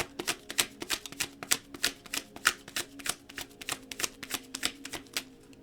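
Tarot cards are shuffled by hand, a rapid run of crisp, papery flicks and taps in an uneven rhythm, close and moderately loud with no talking.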